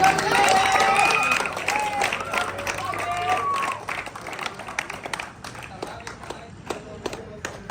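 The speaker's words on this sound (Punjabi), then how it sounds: "ਤਾੜੀ ਮਾਰੋ ਦੇ ਤਾੜੀ" Audience clapping at a village prize giving for children, a crowd's applause loud and dense at first, then thinning into scattered claps under background chatter.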